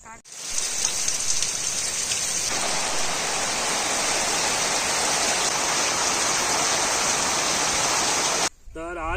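Evening rain pours steadily on a Konkan farm where cashew saplings are being planted, a dense, close hiss that holds for several seconds and then cuts off abruptly.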